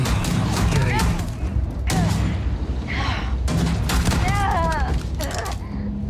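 Gunfire in the space game Starfield: a dense, loud fusillade of rapid shots and booms that runs almost continuously, with brief pauses, while a voice talks over it.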